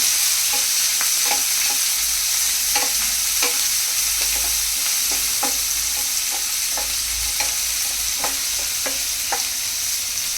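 Slit green chillies stirred in a hot oiled pan for oats upma, a continuous loud sizzle broken by repeated scraping spatula strokes in an uneven rhythm, close up with no voices.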